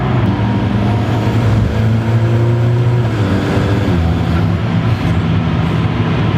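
Alfa Romeo 4C sports car driven in race mode, its engine and exhaust droning loudly and steadily from close by with rising and shifting tones, no voices over it.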